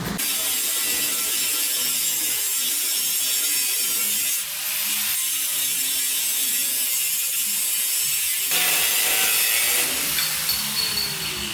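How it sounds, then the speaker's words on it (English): An angle grinder cuts off a welded-on part of a Jeep Cherokee XJ, a loud, continuous harsh grinding whine close to the ear that dips briefly between passes, with no talking. "I have to take a grinder and just cut it off on both sides"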